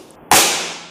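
A Diana AR8 air rifle fires a single 15.42 grain pellet: one sharp, loud crack that snaps in abruptly and decays over the following second, with no talk around it.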